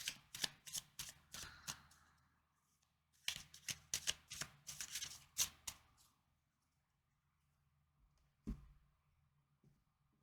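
Tarot cards being shuffled up close in two quick riffling bursts of crisp flutters and snaps, followed by near silence and a single soft tap of a card set down.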